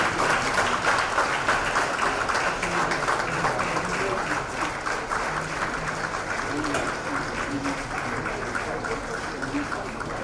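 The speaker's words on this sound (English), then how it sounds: "I'd like us to give him a Nobel applause, please" Sustained applause from a large audience, steady dense clapping that carries on for the full stretch without pause.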